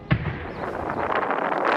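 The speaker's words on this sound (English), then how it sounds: "Explosions erupting across Puerto Vallarta tonight." A single sharp blast at the start, followed by a rolling rumble and noisy roar that swells and lingers.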